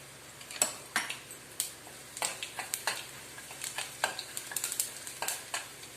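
Cumin seeds hit hot oil with asafoetida in a pan for a curry-leaf thokku, sizzling steadily while a spoon scrapes and clinks against the metal in irregular strokes, close and fairly loud.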